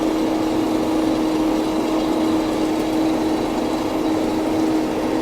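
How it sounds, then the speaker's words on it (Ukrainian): A KhTZ tractor engine runs steadily and loudly in a field with a constant droning hum, close by and unbroken throughout, no voices. "трактор ХТЗ"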